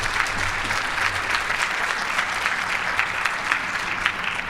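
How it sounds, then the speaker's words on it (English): An audience at a research symposium gives a sustained round of applause for three speakers. Many hands clap densely and evenly at a fairly loud level, with no voices over it. "So let's give all three speakers a great big round of applause."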